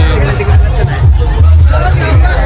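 Dense festival crowd at the Machhindranath temple in Sawargaon Mayamba during the Nath Baba palanquin procession, a steady loud hubbub of many overlapping voices with low rhythmic drum-like thumps underneath, continuous throughout.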